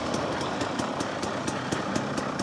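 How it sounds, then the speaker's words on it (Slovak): A rebuilt enduro motorcycle engine idles nearby with a steady, even putter and a quick regular pulse of exhaust beats, continuous and alone without talk. "momentálne už vidíte aj moju upravenú motorku konečne"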